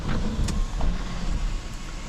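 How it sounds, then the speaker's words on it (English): A 2021 Audi A5 Sportback's moonroof cover retracting on its electric motor, a steady low whir running continuously for about two seconds with a few faint clicks on top, close and alone. "that's the moonroof cover going back there"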